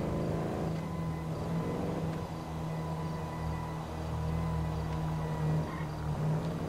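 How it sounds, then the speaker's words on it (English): An electric car drives through the GTA V game world, giving a soft, steady motor hum with a faint tonal whine and light road noise that carries on throughout, with no voices. "Riding on the electric car. Sounds like it."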